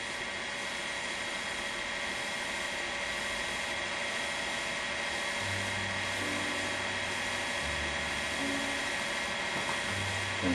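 Potter's wheel spinning steadily while a clay teapot is thrown, giving a constant motor whine and hum. Low tones shift slightly toward the end as the speed changes.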